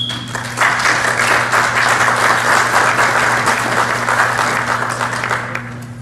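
A lecture audience at a Mexican anesthesiology college breaks into loud, sustained applause to welcome a speaker on obstetric analgesia, a dense, steady wash of many hands clapping with no talking over it.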